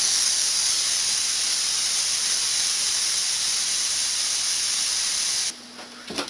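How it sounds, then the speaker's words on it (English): Steam blasting out of a pressure cooker's release valve while making chicken noodle soup, a loud, steady hiss that runs unbroken for over five seconds before cutting off abruptly, leaving faint clatter. "I'm going to release this pressure out here."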